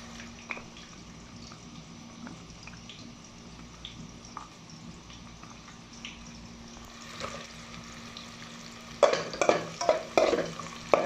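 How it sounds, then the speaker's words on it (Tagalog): Garlic sautéing in a pan for Filipino sinampalukang manok, a low, steady sizzle that builds near the end into louder, close scraping stirs and clatter of a spatula. "Gisa natin guys para lumasa siya."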